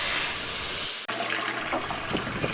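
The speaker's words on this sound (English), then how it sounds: "rinsing them off with a faucet under high pressure" Foam aquarium pre-filters get rinsed outdoors under a high-pressure faucet, a loud hissing gush of water that cuts out abruptly for an instant before resuming with splashy spatter.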